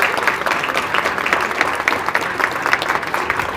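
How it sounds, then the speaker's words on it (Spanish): Crowd at a school event applauding students, a thick, continuous round of clapping from many hands, loud and sustained without talk. "Un aplauso muy grande también les pido para mis hijos"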